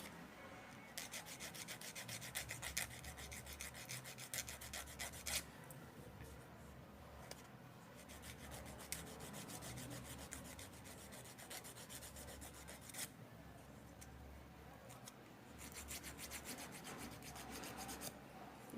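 Nail file rasping across false nail tips, a close, quiet, continuous scratchy rubbing in repeated strokes with brief pauses between bursts; no talking.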